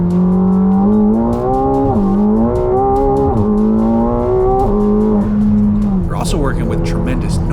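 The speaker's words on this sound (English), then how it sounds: "Also working with tremendous noise because the center exit stainless exhaust is tuned for a greater range of sound dynamics." A 2024 McLaren 750S V8 supercar with a center-exit stainless exhaust revs in loud rising and falling sweeps through gear changes, close and dominant, ending with a sharper burst.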